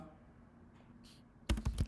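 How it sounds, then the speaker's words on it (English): A computer keyboard typed on while entering a math expression: a short burst of several close, crisp keystrokes after a near-silent lull. "So let's start typing this expression"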